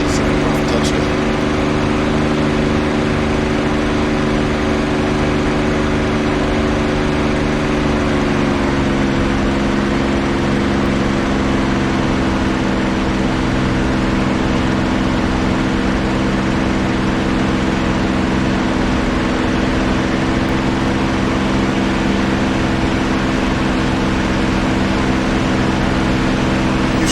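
A P-51D Mustang's piston engine drones steadily in the DCS flight simulator, a loud, continuous hum with a slight shift in pitch early on as the RPM is adjusted, sustained throughout without pause.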